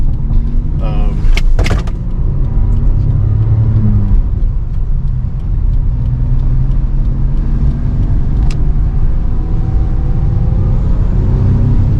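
A Nissan 200ZR driving along with a steady low engine and road rumble from inside the cabin, with a couple of brief clicks early on.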